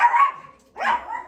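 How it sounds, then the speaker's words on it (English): Dogs barking outside at a neighbouring dog: two short barks about three-quarters of a second apart, at moderate loudness, with no talking. "Dogs are outside barking at next door's dog"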